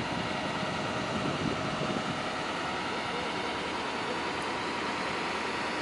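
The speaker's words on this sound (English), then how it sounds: "Engine on" A model airplane's small engine buzzing steadily in flight on a windy day, a continuous dense drone mixed with wind noise.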